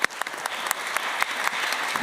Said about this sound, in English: can we have another huge round of applause for our wonderful